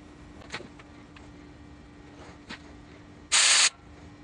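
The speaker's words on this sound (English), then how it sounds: "After poking out the hole, pull out the heavy guns and blow it out with compressed air." A single short, loud blast of compressed air shoots through the oil hole of a 4G63 engine rocker arm, cutting in and out sharply after a few faint clicks and handling knocks.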